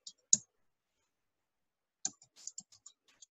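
A few sparse keyboard clicks as Python code is typed: one sharp tap, a short silence, then a quick cluster of lighter taps, close and with no talk.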